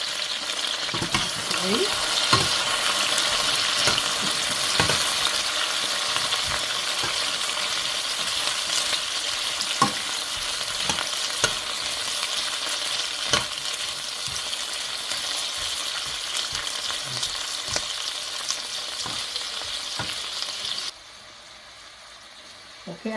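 Garlic fries for a tofu vegetable stir fry, giving a continuous bright sizzle with frequent scrapes and taps of a spatula stirring in the pan, then quieting near the end; a voice speaks briefly.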